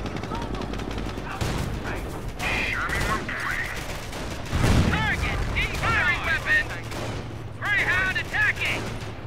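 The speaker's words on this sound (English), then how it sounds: "Base is under enemy fire" Gunfire from a Company of Heroes battle: sustained volleys and bursts of shots with a heavy boom midway, loud and continuous alongside radio-style voice callouts.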